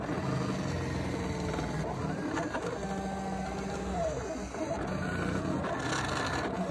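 A small electronic cutting machine whirs and buzzes steadily while cutting cardstock, its tone shifting as it moves back and forth, with no talking.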